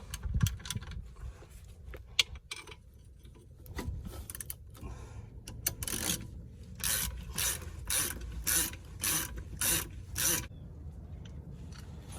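Bolts being tightened on Jeep XJ suspension arms during a lift install, heard as scattered metallic clicks and knocks that build into a loud run of quick, rhythmic ratchet bursts up close.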